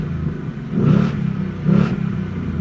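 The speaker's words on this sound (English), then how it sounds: "Let's give it a little rev." A 2018 Ford Mustang GT 5.0 V8 with the GT Performance Package gives two short, loud rev blips over a low idle rumble, heard close up.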